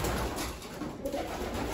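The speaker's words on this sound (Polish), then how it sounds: "Tu są gołębie młode." Young racing pigeons coo softly inside a large loft, a steady murmur of low calls over constant background hiss, with no talking.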